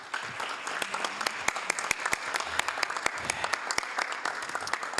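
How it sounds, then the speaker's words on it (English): Applause fills a city council chamber, many hands clapping steadily with crisp nearby claps standing out, and a few voices murmur faintly underneath. "let's give LGBTQIA+ Pride Month a big round of applause"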